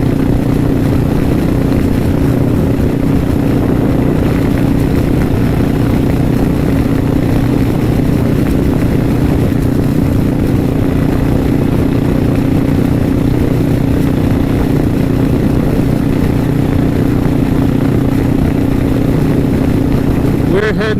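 Suzuki S40 motorcycle single-cylinder engine droning steadily while riding on Uvas Road as the rider shifts gears, a loud continuous hum with wind rush and slight changes in pitch across the run.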